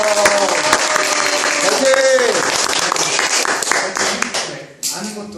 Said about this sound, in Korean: 힘내라고 박수 한번 넣으면